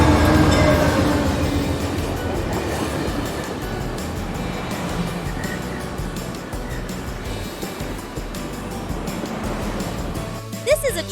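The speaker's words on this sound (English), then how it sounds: "The train is here. Let's go. Choo, choo!" Train sound effect of a passing railway train, a loud continuous rumble with rail clatter and wheel noise throughout, with a voice speaking over it.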